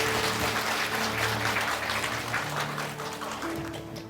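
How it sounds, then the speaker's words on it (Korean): Audience applause fills a church hall after a guest pastor's talk at a spring new-life festival: steady, dense clapping from many hands that holds at an even level throughout, with a faint tonal hum underneath, slowly easing toward the end. "수고해 주신 이유수 목사님께 다시 한번 뜨거운 박수 부탁드립니다"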